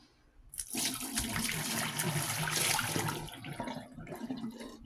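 Tap water gushes steadily into a sink for about three seconds while a spoon used to stir a candy cane in boiling water is washed, then the flow eases off.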